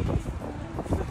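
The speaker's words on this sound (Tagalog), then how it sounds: "Wow, ang hangin." Wind gusts outside exit 3 of a train station in Sapporo, Japan, buffet the microphone as low rumbling bursts for about a second.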